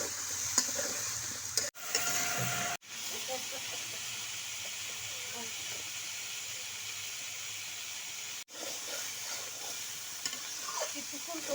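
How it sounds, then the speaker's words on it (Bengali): Raw plantain frying in a pan of spiced paste, a loud continuous sizzle and hiss with scraping stirring, broken by a few brief cuts. "এবার আমি কলা দিয়ে দেব।"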